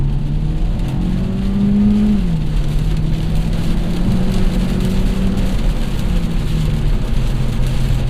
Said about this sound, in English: I'll just mat the gas pedal, put it in sport mode, and see what we got.